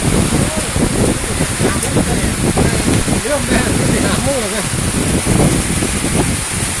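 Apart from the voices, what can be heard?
rain falling over rice fields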